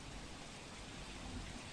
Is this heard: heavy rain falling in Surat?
yes